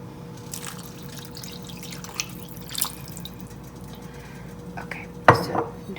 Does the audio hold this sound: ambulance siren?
no